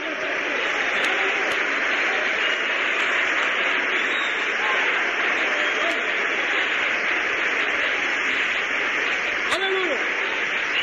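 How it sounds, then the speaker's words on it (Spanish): A church congregation breaks into loud, sustained applause, a dense steady wash that fills the whole stretch with no pause, mixed with a few scattered cheers and voices. "¡Aplauso fuerte!"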